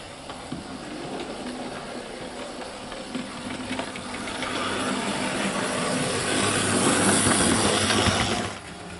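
A Hornby GWR Class 7200 model locomotive runs smoothly with a steady motor whir and faint rail noise, rising slightly in level before dropping near the end, with no voices.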